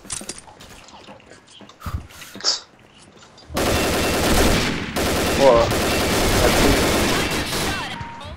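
Rapid automatic gunfire from a Point Blank clan war match, dense sustained bursts filling the second half after sparse quieter moments, with players talking faintly early on.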